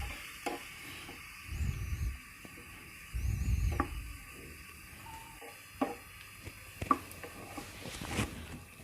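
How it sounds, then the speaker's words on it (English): Mushrooms are stirred in a frying pan: scattered scrapes and taps of the utensil against the pan, with a couple of low rumbling bursts and a faint sizzle underneath, close and moderately quiet. "Keep stirring."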